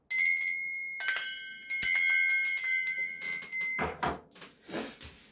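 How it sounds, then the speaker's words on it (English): Several bells ring out in a space-cleansing ritual, bright sustained tones struck in bursts over the first few seconds, fading into softer rustling and handling sounds toward the end; no one speaks. "I'm going to be ringing these bells"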